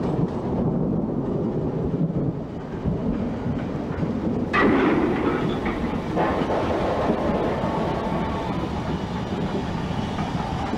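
A Black Five steam locomotive runs along the railway with a continuous heavy rumble and clatter, loud and close, with no speech.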